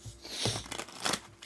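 Tarot cards being shuffled by hand during a livestream, a soft papery riffling and shuffling in short bursts, quiet and close, with no voice over it.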